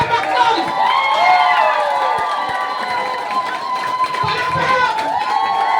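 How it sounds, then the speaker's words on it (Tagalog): A large crowd cheers and shouts loudly and continuously at a live Filipino event, with excited voices layered over the noise and only light clapping in the mix. "Bigyan natin ang milyon-milyon palakpak!"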